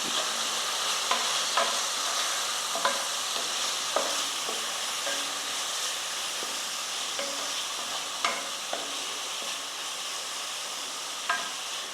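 Mixed vegetables for a Kerala-style thoran sizzling in a pan while a spoon scrapes and stirs, with irregular clacks against the pan over a constant frying hiss.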